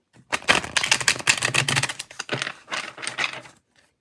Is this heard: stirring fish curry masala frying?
no